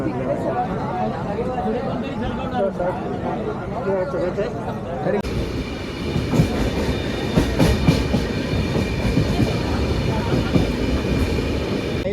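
Mandvi train running on rails, a loud continuous rumble with rhythmic clatter that grows louder partway through, with people chattering over it.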